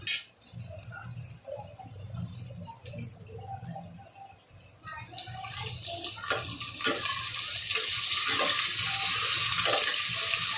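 Chopped tomatoes frying with browned onion in a pan for a Marathi-style mutton curry, starting as a quiet stir and scrape and then swelling into a loud, steady sizzle.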